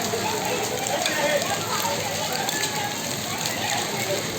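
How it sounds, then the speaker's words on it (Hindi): Hail falls during a May storm in Delhi as a dense, steady patter and hiss of pellets hitting surfaces, moderately loud and unbroken throughout, with people talking faintly in the background. "मई के महीने में ओले गिर रहे हैं।"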